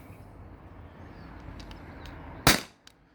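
A T4E HDP50 CO2 pistol fires one sharp, loud pop over a chronograph, with a faint click just after and low room hiss before it.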